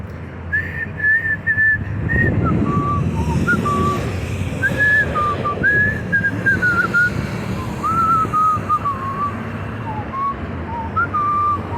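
A person whistles a wandering tune outdoors during a walk, the melody clear and fairly close, sliding between pitches in short phrases over steady traffic and wind rumble.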